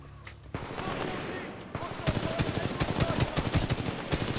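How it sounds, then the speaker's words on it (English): Rapid automatic gunfire in the video game Titanfall 2, sustained bursts of loud, close shots that grow denser and more rhythmic in the second half over a busy game soundscape. "I'll just shoot you this time."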